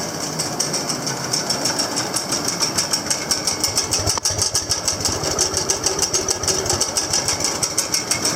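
A small engine idles at its lowest throttle setting, a steady, rapid and close mechanical chugging that holds an even rhythm throughout with no voices.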